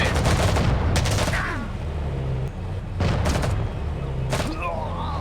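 Bursts of rapid gunfire and booms from the real-time strategy game Act of War crackle loudly in several clusters, with in-game voice callouts around them.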